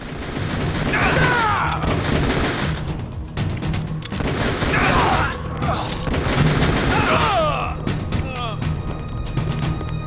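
Gunfire in Metal Gear Solid: The Twin Snakes comes in loud bursts of rapid shots and booms, repeated several times with short pauses, while voices talk over the shooting.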